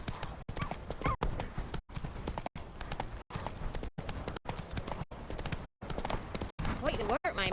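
Hooves of the horse Roach in The Witcher 3 clip-clopping in a steady trotting rhythm, broken by brief silent cuts, with a voice talking over the hoofbeats.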